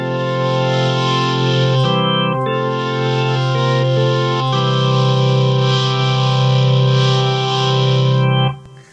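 A B3 organ pushed into distortion with the mod wheel, played through a Marshall valve amplifier, gives loud, sustained, gritty chords. The chords shift twice, then cut off near the end.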